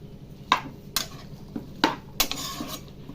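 Ivy gourds and green chillies being stirred in a pan with a metal spoon, several sharp clinks and scrapes against the pan in an uneven rhythm, close up over a quiet background.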